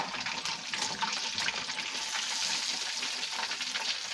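Chicken pieces for a spicy chicken sandwich frying in hot grease, a close, continuous bubbling sizzle with no one speaking.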